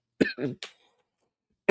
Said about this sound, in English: I ain't had these coughing fits in a minute